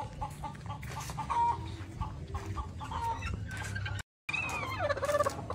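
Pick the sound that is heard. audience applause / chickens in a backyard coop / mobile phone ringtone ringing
chickens in a backyard coop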